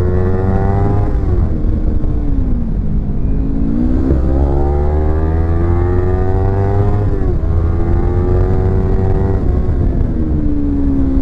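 A Kawasaki Z300 motorcycle ridden hard at its limit, engine revving high and loud through repeated rising and falling sweeps as it shifts and accelerates, with no talking.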